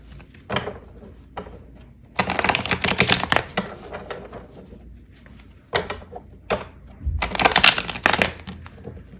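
A tarot deck that resists shuffling is riffled and shuffled in two long bursts of dense papery flutter and slapping, with quieter handling between, close and fairly loud.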